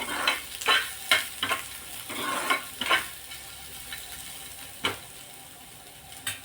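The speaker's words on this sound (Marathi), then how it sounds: "कांदा सोनेरी रंग येईपर्यंत मस्त असा भाजून घ्यायचा आहे" Sliced onions frying in a pan until golden: a soft, steady sizzle punctuated by a handful of sharp spatula scrapes and stirs, close and fairly quiet, with no talking.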